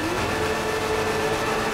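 A steady, loud droning roar of car engines in GTA 5, several vehicles running together with a constant tonal hum and no talk over it.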